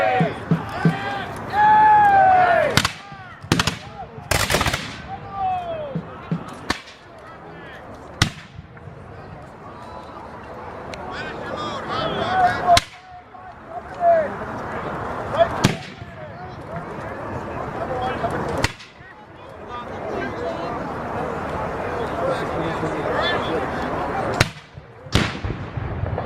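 Cannon and musket fire at a reenactment of the 1813 Battle of York: sharp, loud blasts at irregular intervals, some much heavier than others, over crowd noise and talking.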